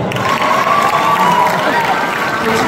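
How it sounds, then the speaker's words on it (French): A crowd at a French debate event cheers loudly with whoops and shouts, mixed with applause, and the noise stays dense and continuous, close and strong, from start to finish. "est-ce que je peux demander à ce qu'on applaudisse pour nos co-débatteurs?"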